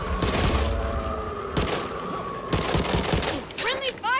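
Scattered bursts of gunfire in the co-op zombie shooter Back 4 Blood, several loud volleys separated by short pauses, with in-game sounds and effects between them.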